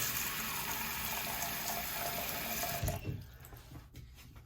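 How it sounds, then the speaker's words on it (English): Water rinses out of a container and drains away during an estate pipe cleanup, a steady faint gush of running water that breaks into splashes and trickles toward the end. "we're going to drain that, rinse that out"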